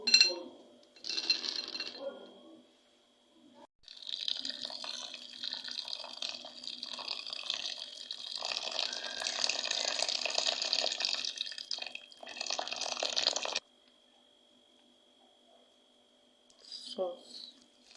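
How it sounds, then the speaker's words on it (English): Boiled water is poured over three cups of groundnuts with two tablespoons of salt: a close, steady liquid pour runs for about ten seconds, with brief splashes just before and after. "the first thing I'll be doing is to boil my water and pour on the groundnuts, adding salt"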